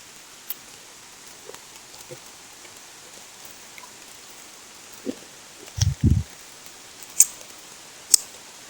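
Light rain patters faintly in the background, with a few louder bumps and taps near the middle and scattered drips afterward.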